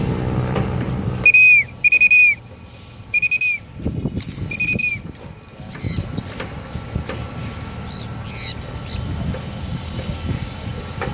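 Shrill whistle used during free flight of sun conures in Manila: four or five sharp, repeated blasts ring out early, then a few fainter calls come later over scattered outdoor noise.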